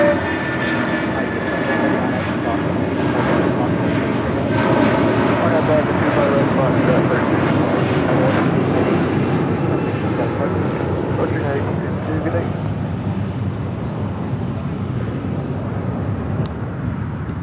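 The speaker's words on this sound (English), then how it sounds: "It's a 747-400 converted passenger plane, now cargo plane, 24 years of age." Boeing 747-400 cargo jet, a 24-year-old converted passenger plane, departing LAX: a steady, loud engine roar fills the whole stretch, with a thin whine riding above the broad rumble, while someone talks over it.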